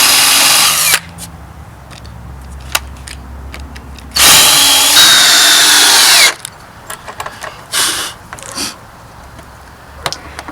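A power drill drives screws into wooden raised-bed boards in loud bursts of whirring, two long and several short, separated by quieter pauses with small clicks and knocks.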